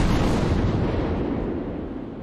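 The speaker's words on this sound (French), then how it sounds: "sous une salve de canon qui fête la victoire des Parisiennes" A ceremonial cannon salvo fired to celebrate a victory in Revolutionary-era France, a loud, sustained rumbling boom with dense low roar that stays heavy throughout and slowly fades.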